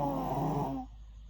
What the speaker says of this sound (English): I don't think it's normal for a 5 years old to be snoring like this